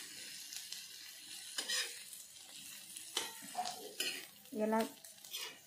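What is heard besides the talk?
mixing crushed peanuts into chickpea thecha in a pan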